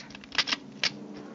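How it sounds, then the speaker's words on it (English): Key turning in a lock and a door opening in a radio drama: a few short, close clicks and rattles with brief metallic scrapes, heard alone. "You turn the key in the lock, and you open the door."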